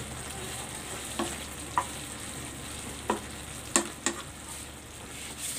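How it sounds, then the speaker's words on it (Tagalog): Coconut milk simmers and reduces in a pot for a fish dish, a soft continuous bubbling hiss broken by a few sharp clinks and stirring knocks spaced irregularly. "pakuluin pa natin ito hanggang sa mag-reduce yung"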